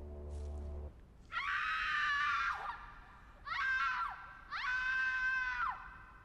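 A person screams during a horror video game: three long, high, strained cries, the first the longest, each trailing off, loud and close after a brief low hum, with no other talk.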